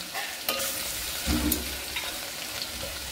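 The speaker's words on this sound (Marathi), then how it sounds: "त्यात आपण लसूण टाकून घ्यायचं आहे।" Garlic added to hot oil already tempered with cumin and mustard seeds for a spicy moong dal varan, hissing in a steady close sizzle while a spoon scrapes and stirs through it.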